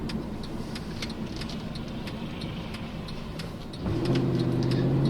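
Cabin sound of a 2009 Mercedes C63 AMG on the road, a steady low engine drone with faint ticking, rising in level and pitch near the end as throttle is added, with no talk.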